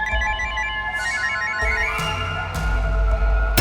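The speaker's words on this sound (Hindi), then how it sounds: "प्रीतम सर का फोन" Phone ringing at home with a loud, repeating electronic ringtone melody of several tones over a low hum, close and alone, with no voices.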